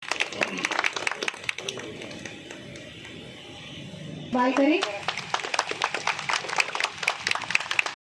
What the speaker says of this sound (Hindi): तालियां रुकनी नहीं चाहिए हमारे बीच में